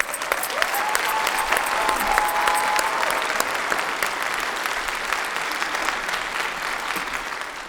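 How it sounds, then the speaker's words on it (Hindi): Audience at a preschool annual function applauds loudly, a dense sustained clapping that carries on for several seconds with little else over it. "उसकी टीम के लिए जोरदार तालियां"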